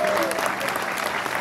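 Audience applause at a property expo in Thane, a loud, dense burst of many people clapping at once, steady for its short length, with a voice briefly audible at the start.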